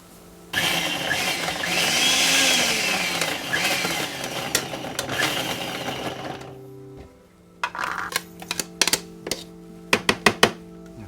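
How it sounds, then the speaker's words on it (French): A blender whirs loudly for several seconds blending vegetables, then stops; afterward come scattered clinks and knocks of utensils against containers. "on va passer tout ça au blender."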